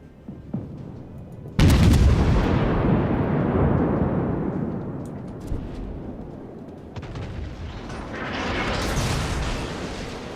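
A naval battle game with the warship Duca D'Aosta: a sudden loud gun blast booms and rolls off into a long decaying rumble, followed by quieter thuds and a second swelling roar.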